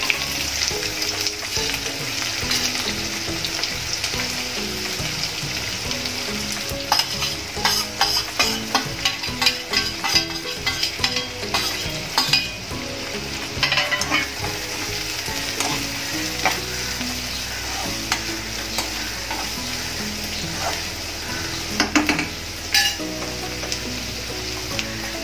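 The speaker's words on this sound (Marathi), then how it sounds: "आपण कांदा घालूया।" Onion frying in a pan for a fenugreek and potato vegetable dish, a steady loud sizzle with scraping stirs and clinks of the spoon throughout.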